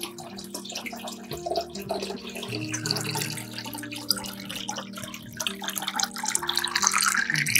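Water runs steadily from a tap at a small caravan, a continuous splashing flow that builds louder toward the end, with no voices.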